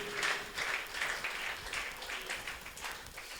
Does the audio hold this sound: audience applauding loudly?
yes